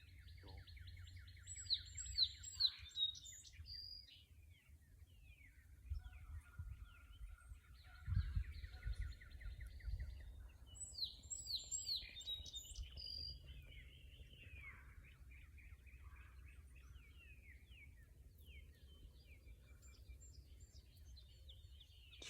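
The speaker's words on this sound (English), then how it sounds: "Let's listen to the birds singing." Woodland birds sing on a bright day, chirping and warbling in repeated high phrases at moderate distance, over a soft low rumble of wind or handling noise.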